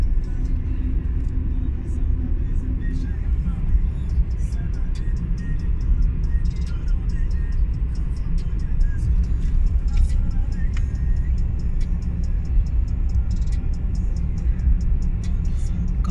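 Steady low engine and road rumble inside an Opel Corsa C holding speed on cruise control, a constant drone with faint rattles, while someone talks over it.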